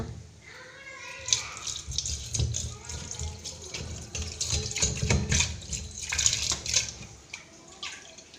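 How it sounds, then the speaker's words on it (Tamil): Water is poured into sambar in a cooking pot, a close, irregular splashing and trickling under faint background noise and scattered kitchen clatter. "கொஞ்சமாக தண்ணி சேர்த்துக்கலாம்"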